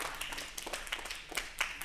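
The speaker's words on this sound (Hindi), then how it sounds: "एक बार जोरदार तालियां सत्यम भैया के लिए।" A comedy club audience gives a brief round of scattered clapping at a stand-up show, moderately loud and uneven, with a faint voice in the background.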